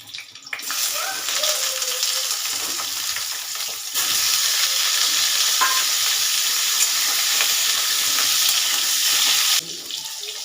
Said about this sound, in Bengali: বেশ খানিকটা তেল দিয়ে দিলাম দিয়ে আলুগুলো লাল লাল করে একটু ভেজে নেব